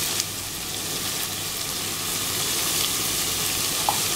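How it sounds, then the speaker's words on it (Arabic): Boiled meat and onion sautéing with spices in a pan, giving a steady, close hissing sizzle with faint stirring that holds evenly throughout, no voices. "انا اهو بشوح اللحمه مع البصله."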